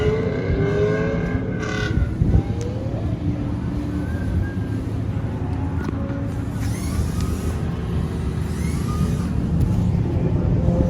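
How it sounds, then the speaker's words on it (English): A Toyota JZX drift car runs a test lap, its engine droning steadily with shifting pitch over continuous road and wind noise, heard from a moderate distance while voices talk underneath. "Goes out to do a test lap to make sure the JZX is good"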